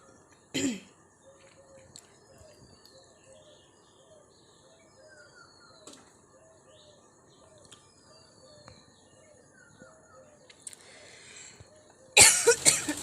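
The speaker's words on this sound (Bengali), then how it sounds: "কাশি উঠে গেল" A single short cough sounds near the start, followed by quiet with faint birdsong and insect chirps outdoors near a house, ending in a sudden burst of noise.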